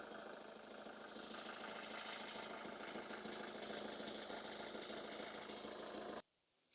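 A 2012 Hyundai Santa Fe with a 2.2 CRDi diesel engine idles with a steady, even hum and a faint rhythmic clatter. The sound stays unchanged for about six seconds, then cuts off abruptly.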